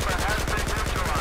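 Fast, steady automatic gunfire in Battlefield 4, a tight rhythmic train of close, loud shots hammering without pause for the whole moment.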